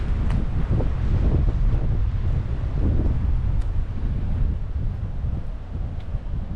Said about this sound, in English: Boy, this wind.